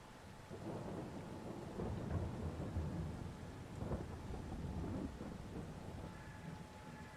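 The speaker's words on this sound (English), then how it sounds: "Planting in the rain." Steady rain with rumbling thunder rolls in a farming video game, a continuous wash of rainfall under several low booming thunder swells, fairly loud and with no talk.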